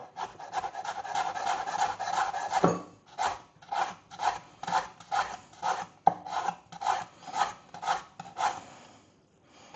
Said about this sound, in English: we're going to finely shred the skin, like we did with the cucumber